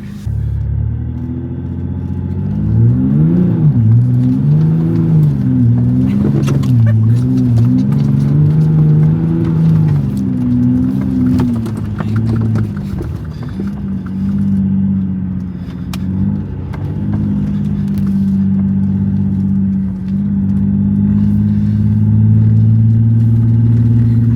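A 4x4 vehicle engine driving on a muddy road after heavy rain in the Swell: a steady loud rumble with rising and falling revs and occasional knocks and splashes, continuous and close throughout.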